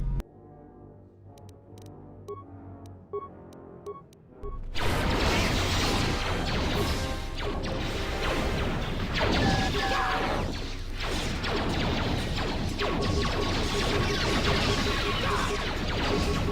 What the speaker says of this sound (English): Why did he make a droid sound when he died?